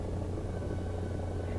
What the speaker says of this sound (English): Mi-4 isn't the worst helicopter in the game